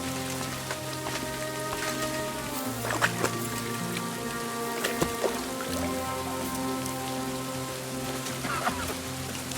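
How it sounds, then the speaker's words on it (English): Steady rain falls in the medieval setting of the video game Kingdom Come: Deliverance II, a dense continuous patter with a few sharper drops, layered over a sustained tonal music or ambient bed and no talking. "Damned rain!"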